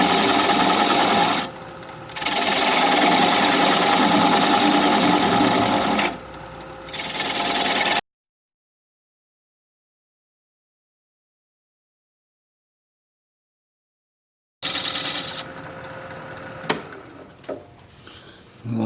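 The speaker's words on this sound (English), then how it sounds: "I'm just going to take a 3/8 inch standard grind bowl gouge and commence to removing that tenon." A 3/8 inch standard grind bowl gouge cuts away the tenon on a wooden bowl turning on a wood lathe. The sound is a close, continuous scraping hum that dips twice, stops into a long silence, then returns with rougher cutting.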